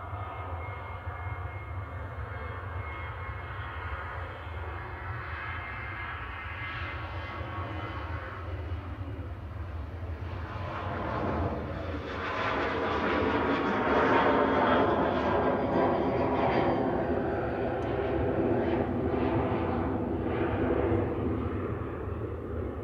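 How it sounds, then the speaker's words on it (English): Ryanair Boeing 737-800 jet departing Manchester Airport on runway 23 right, a steady low engine roar that swells louder midway through as the takeoff thrust builds, continuous broadband rumble without talk. "departing right now on 2-3 right is Ryanair to Berlin, flight 1155 GRUKM"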